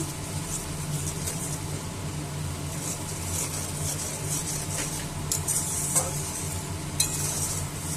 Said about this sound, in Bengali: আর দেব অল্প একটু চিনি দিয়ে মশলাটা একটু কষাবো।